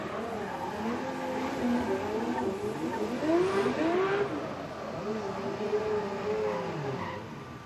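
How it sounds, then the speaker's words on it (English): A Toyota Supra Mark IV does a burnout in a burnout box at a Formula Drift event, warming up GT radial tires: sustained engine revving with squealing tires, wavering pitch, loud and continuous with crowd and track ambience. "The Pedal Commander burnout box, warming up those GT radial tires"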